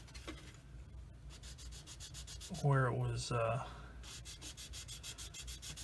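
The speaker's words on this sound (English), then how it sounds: "it's got a little bit of sanding to do right here" A soft, steady rubbing and scraping of sanding a plastic part of a Tamiya 1/35 M2A2 Bradley model kit, close by, with a brief spoken phrase breaking in partway through.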